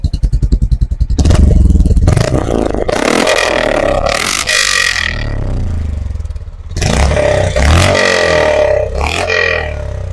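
Honda CB350 motorcycle engine revving up close: a rapid idle putter breaks into loud, sustained revs that rise and fall in several surges, with a brief dip before the throttle opens again.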